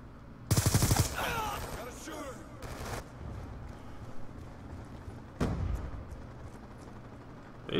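Gunfire in Call of Duty Black Ops 2, several sharp, loud bursts of shots spaced apart, with quieter game noise and a voice in between.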